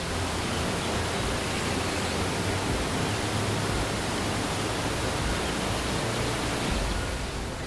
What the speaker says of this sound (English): the Canaima waterfall system emerges as a majestic and enchanting symphony of nature